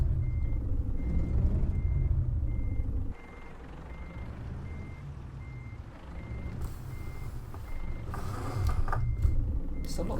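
Reversing beeps from a Renault Range T V6.2 truck in Euro Truck Simulator 2, a steady evenly spaced series of moderate electronic tones over a loud low engine rumble that drops partway through.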